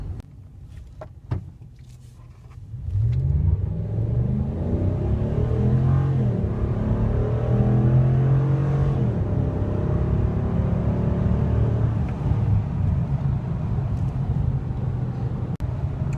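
A 2014 Ram 1500 Big Horn pickup truck on a speed test, with a low engine and road drone building after a few seconds of quieter cabin noise and then holding steady. No one speaks.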